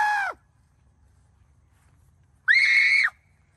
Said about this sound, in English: you just hear everyone screaming from the distance